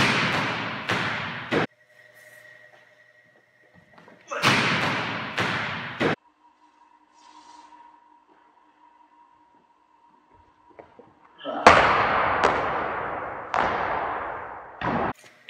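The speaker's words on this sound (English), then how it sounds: "But this is what my jump serve looks like." Volleyball jump serve contact: three bursts of sharp thuds and slaps, each a quick cluster of loud hits, separated by quieter gaps with faint background hum.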